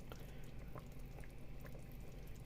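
A pot of roach fish stew simmers quietly, with soft continuous bubbling and occasional small pops, faint and steady throughout.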